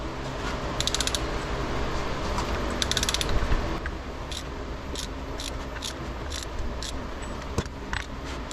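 Ratcheting torque wrench with a 34 mm socket tightening a nut to 150 pounds during a Ford NP205 transfer case rebuild, giving bursts of fast clicking ratchet pawl rattle over steady mechanical noise, close and loud with no talk.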